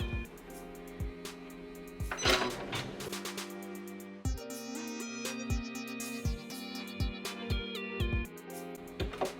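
Janome 550E embroidery machine stitching a tack-down line, a rhythmic mechanical whir with tonal motor hum and regular needle thumps, close and steady with short pauses.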